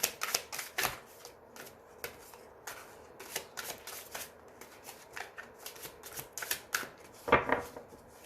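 A deck of tarot cards is cut and shuffled close up, giving bursts of crisp riffling and flicking spaced irregularly throughout, with a sharper, louder riffle near the end and no talking.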